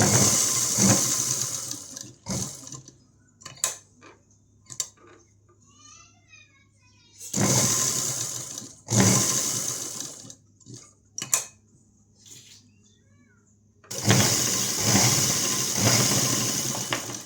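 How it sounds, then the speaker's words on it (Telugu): A sewing machine stitches a frock for a one-year-old baby in three separate runs of close, whirring noise, each lasting a couple of seconds. Quieter gaps between the runs hold faint clicks and small handling sounds. "కుట్టు వేస్తున్నాను"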